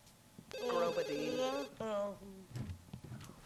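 A telephone rings in The Sims 2 video game, a bright electronic ringing tone held for about a second and then repeated, with a voice speaking alongside it.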